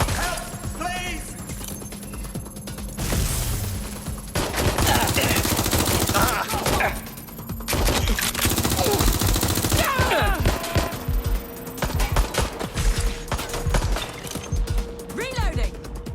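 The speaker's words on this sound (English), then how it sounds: "Gunfire! Taking fire!" Video game gunfire in Watch Dogs Legion rings out in clustered bursts and single shots amid mechanical clicks, with in-game voices calling out intermittently.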